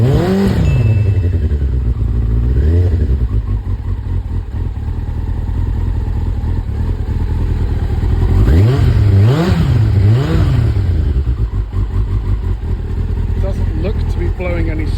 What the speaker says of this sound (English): that's the bike running again